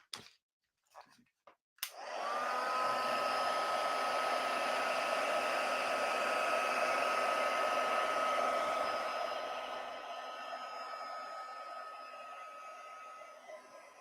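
A heat tool blows steadily for about eight seconds onto ink scattered with salt on a stamped card, switching on after a few faint handling knocks and fading to a softer whir toward the end.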